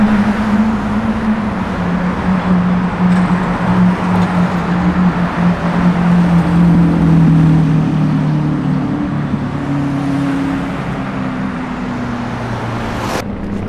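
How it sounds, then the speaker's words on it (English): A Lamborghini Aventador engine rumbles steadily on a Los Angeles street, a loud, continuous low drone mixed with surrounding traffic noise that holds for about fourteen seconds before a brief sharp sound near the end. "I can still hear that Lambo there."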